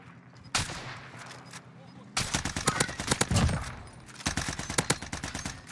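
Bursts of rapid MP5 gunfire in the video game Warzone, loud clattering volleys in several clusters with short gaps between them.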